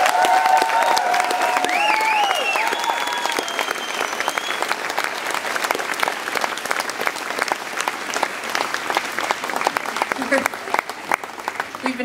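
A concert crowd at a show applauds the bass player, a loud, full wall of clapping with a few cheers and whoops riding over it, slowly thinning toward the end.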